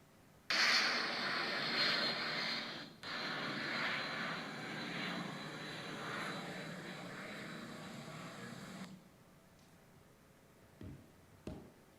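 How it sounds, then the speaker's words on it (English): A jet passes overhead above a house with a loud, broad roar that holds steady for about eight seconds and then drops away, leaving faint ambient sounds and a few small knocks. "Last one's a jet."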